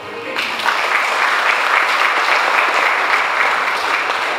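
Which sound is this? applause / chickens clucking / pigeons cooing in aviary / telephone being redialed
applause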